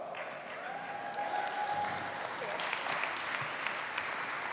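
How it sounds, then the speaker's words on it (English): A conference audience at a voice technology summit applauds steadily, a dense wash of clapping hands that holds at an even level throughout, with no talking over it. "Keep applauding him, he's got a long way to come."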